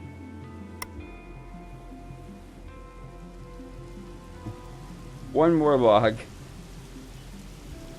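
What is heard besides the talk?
rain falling in the video game Colonize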